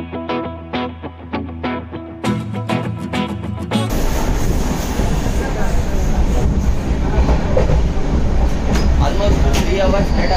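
Passenger train pulling out of Varkala station: rhythmic wheel clicks and horn-like tones at first, then a loud, continuous rumble of rolling carriages that holds steady to the end.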